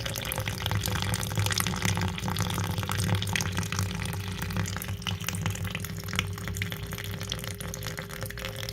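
Water runs from a bathroom faucet's supply line as it drains, a steady close splashing stream with a constant hissing flow and no talk.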